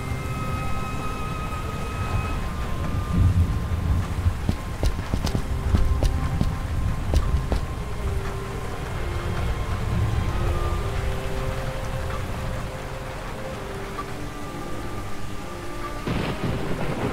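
Thunderstorm over Paris in the Cthulhu adventure game Gibbous: rolling thunder and steady rain form a dense, loud ambience, with sharp cracks and clopping sounds mixed in and a low rumble swelling near the end.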